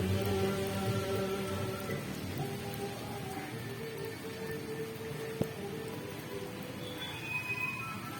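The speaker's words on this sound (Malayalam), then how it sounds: "ഓക്കെ, മഴ തുടങ്ങി." Rain begins falling outdoors near a temple on the first day of the Karkidakam month, a steady soft patter of drops with a low hum beneath and one sharp tap midway.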